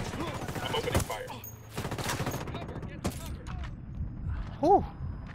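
Gunfire in Ghost Recon Wildlands comes as several sharp, loud shots in irregular bursts, with clicks and mechanical clatter in between and a short tonal whine near the end. A voice speaks briefly among the shots.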